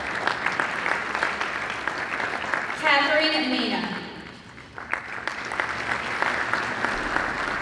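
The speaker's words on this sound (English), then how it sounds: "Thank you for that applause" Audience applause at an anniversary celebration for a reverend, steady clapping that carries on under a spoken announcement, stops briefly as the announcement ends, then swells up again.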